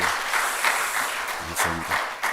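A church audience claps warmly for the elders in an Orange County congregation, a steady close round of applause that runs throughout without a break.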